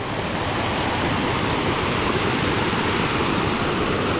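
At the top of a waterfall, water rushes with a continuous, close, full-bodied roar, steady and unbroken with no voices.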